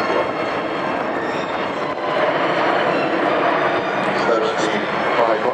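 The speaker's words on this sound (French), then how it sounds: "c'est un passage à basse vitesse avec les volets 3, on le met sur une pente un peu cabrée et on descend à 180 km/h seulement" An Airbus A380 makes a slow, nose-high flyby at the Paris Air Show with flaps extended, its engines producing a loud, steady broadband roar that holds throughout and swells slightly midway.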